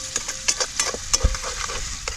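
Close, irregular scraping and clinking of a spatula stirring onion sautéing in oil in a wok, with a faint sizzle underneath and one dull thump.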